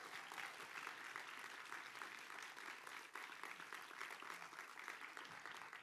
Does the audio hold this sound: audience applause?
yes